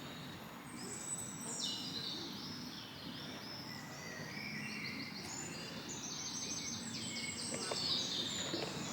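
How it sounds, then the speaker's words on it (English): Birds chirp and trill steadily beside a castle in Luxembourg, many overlapping calls carrying over a constant outdoor hiss for the whole stretch. "Lots of birds chirping."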